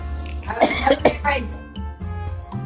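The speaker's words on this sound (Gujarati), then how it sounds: "ઉધરસ બહુ થઈ ગયું." A few close, harsh coughs with some throat clearing, over a low background hum.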